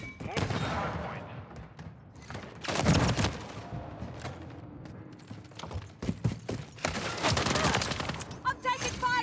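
Rapid bursts of automatic gunfire from a Call of Duty: Modern Warfare III multiplayer match crackle through the scene, with heavy volleys near the start, middle and end, over a dense backdrop of game noise.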